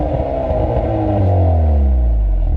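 A 2021 Hyundai Veloster N in N mode revs hard and loud close by, its exhaust note rising in pitch, with no voices.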